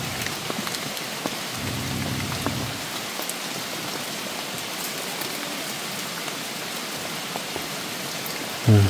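Heavy rain pours steadily onto surfaces, a dense continuous hiss with scattered drips, and a low rumble briefly underneath; no voices.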